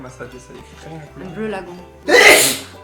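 A single loud, sharp sneeze bursts out at the end, just after a person speaks calmly in French.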